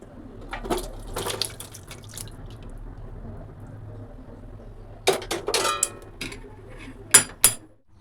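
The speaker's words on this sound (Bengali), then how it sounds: "চলো তরকারিটা নামিয়ে কড়াইটা মেজে নিয়ে আসি" A kadai being scrubbed and rinsed under running water at a sink, with trickling and dripping, a few metal clinks and scraping bursts, close and moderately loud.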